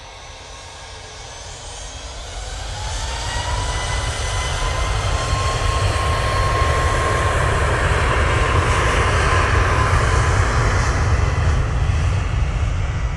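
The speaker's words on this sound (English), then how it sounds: "Ryanair 737 MAX 8 now on the roll." Ryanair Boeing 737 MAX 8 jet on its takeoff roll at Manchester Airport, a steady broadband engine roar building over the first few seconds and then holding loud and continuous, with a rising engine whine running through it.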